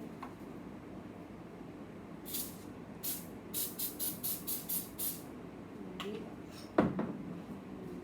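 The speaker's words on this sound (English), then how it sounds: "Spray the pan." Several short hissing bursts of cooking spray onto a pizza pan in quick succession, with a few faint clinks and kitchen handling noises around them.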